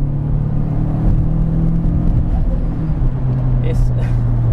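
Inside a turbocharged Renault Clio 172 Cup on the road, a steady engine drone with a humming tone rumbles loudly beneath someone talking over it.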